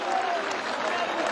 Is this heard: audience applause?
yes